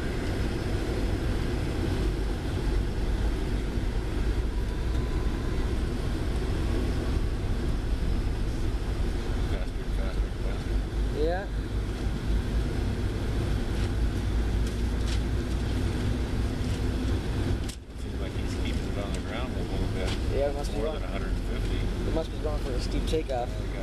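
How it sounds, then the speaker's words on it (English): Inside the cabin of a Delta DC-9-50 on takeoff, the jet engines roar in a loud, steady rumble that briefly dips partway through, with people talking under the noise. "Takeoff."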